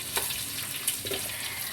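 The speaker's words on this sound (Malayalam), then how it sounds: "നന്നായി ഒരു ചുവപ്പ് കളറാകണത് വരെ നമുക്കിതൊന്ന് നന്നായി ഇങ്ങനെ ഇളക്കി കൊടുത്ത് അതൊന്ന് വഴറ്റാം" Masala for fish curry sizzling and being stirred in a pan, a dense, close, steady frying hiss with a couple of brief scraping strokes.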